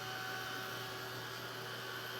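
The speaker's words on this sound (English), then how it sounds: "Hit it with the dryer real quick." A hair dryer blows on a craft wreath with a continuous, even whooshing roar and a steady motor hum, running alone and unchanging throughout.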